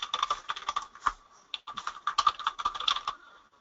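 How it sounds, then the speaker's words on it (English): Fast, irregular clicking of keys on a computer keyboard as a username is entered, close and fairly quiet, with a short pause partway through and no voices. "So I'm going to type in my username."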